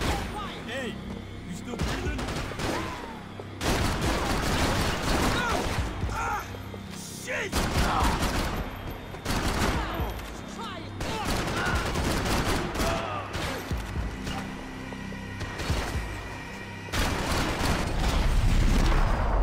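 Gunfire rattles through a Max Payne 3 shootout, dense bursts of shots and mechanical clatter running almost continuously, with voices speaking over the action.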